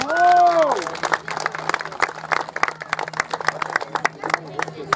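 Audience applause at a race awards ceremony for an extreme trail event, scattered claps crackling for several seconds after a short voice at the start.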